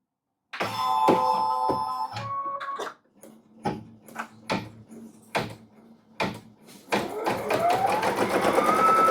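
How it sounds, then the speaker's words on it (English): Embroidery machine sewing the placement stitch for in-the-hoop quilting: a sustained mechanical whir with rhythmic needle thunks, then a series of separate knocks, then a steady running hum. "the first part is going to be the placement stitch"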